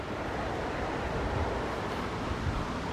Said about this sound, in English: The brook continues from where we just were.